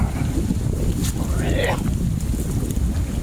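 Strong wind buffets a microphone while fishing from a boat on open water, a constant low roaring rumble throughout, with someone speaking over it.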